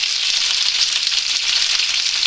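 Vegetarian food sizzles steadily in a hot pan, with ketchup and turmeric in the mix, a dense even crackle close by that carries on without a break.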